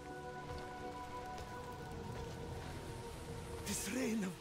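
Steady rain falls in the Diablo 4 video game, a continuous soft patter heard under a game character's spoken dialogue, with a brief tonal swell near the end.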